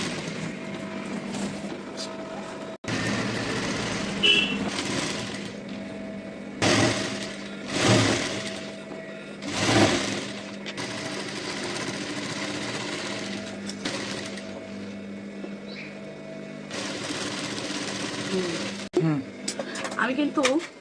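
A sewing machine runs stitch after stitch along a folded Patiala pant seam, its whirring bursts starting and stopping several times at close range, with a voice talking over much of it.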